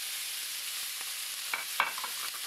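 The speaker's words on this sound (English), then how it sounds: "So let the bacon cook for a few minutes." Bacon fries in a pan with a constant soft sizzle and a few faint pops and crackles, quiet and continuous, with no one talking.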